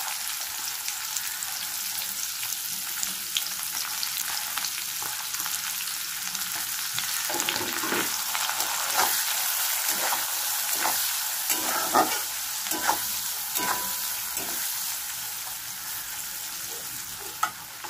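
Chopped onions frying in hot oil with spices while being stirred in a pan for chicken kosha, a steady sizzle broken by scraping stir strokes that grow busier midway.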